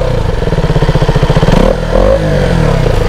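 A KTM Duke 200 or Yamaha R15 V3 motorcycle engine, heard up close, pulses rapidly through a run of blips, then swoops up and down in a short rev before settling into a steady hum.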